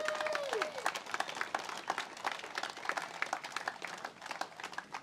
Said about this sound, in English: Please let them know your appreciation with a round of applause for all our sponsors.